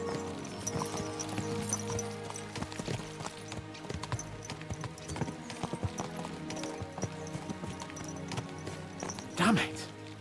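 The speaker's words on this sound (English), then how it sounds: "Let's really spur these horses on, eh?" Hooves of several horses clip-clop steadily at a brisk pace in the medieval video game Kingdom Come Deliverance 2, with a horse whinnying briefly near the end and talk running over the hoofbeats.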